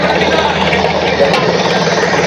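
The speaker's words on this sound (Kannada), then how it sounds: "ಟ್ರ್ಯಾಕ್ಟ್ರ್ ಚಿಕ್ಕದಾಗಿರೋದ್ರಿಂದ ಮಿನಿ ಟ್ರ್ಯಾಕ್ಟ್ರ್ ಇದು" A mini tractor engine idles steadily and close by, a constant low rumble with a faint rattle and no pauses.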